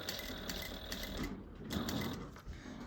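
A sewing machine runs continuously while stitching a tote bag seam, a close, rapid mechanical whirr with a steady rhythmic chatter of the needle.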